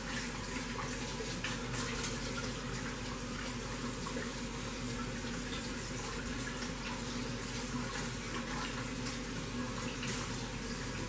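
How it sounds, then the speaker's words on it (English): Hands are washed under a running tap to rinse off soap during cold process soap making, a steady close rush of water that lasts throughout with no pauses and no talking. "Had to wash my hands off."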